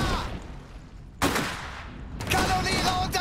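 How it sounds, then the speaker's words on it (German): Rapid bursts of gunfire and explosive volleys from the real-time strategy game Iron Harvest, as artillery crews come under fire. Loud cracks arrive in several distinct waves over constant battle noise. "Kanoniere unter Beschuss!"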